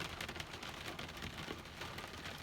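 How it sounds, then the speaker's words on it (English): Steady rain falls in the early morning, a dense, even patter of drops on a surface heard up close and continuous throughout, with no talking. "It's raining, guys."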